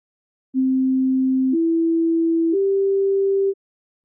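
A pure test tone sounds alone in the right headphone as three steady one-second steps, each slightly higher in pitch than the last, clean and loud with no other sound.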